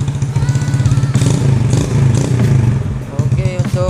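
Honda C70 motorcycle fitted with a Shogun Edo Pro Series racing CDI on setting 1, its engine loud and close, pulsing rapidly as it is revved up and down in short bursts, with a voice alongside.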